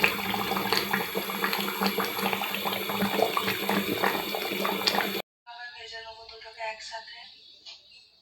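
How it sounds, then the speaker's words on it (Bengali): Water pours and splashes into a pot of spiced chicken for boiling, a dense rushing flow that cuts off abruptly, followed by someone talking. "এবার জল দিলাম সিদ্ধর জন্য।"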